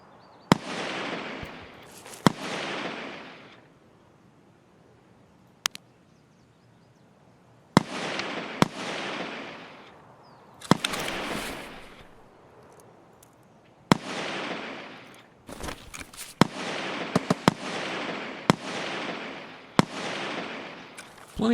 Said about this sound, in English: Plenty of shooting happening.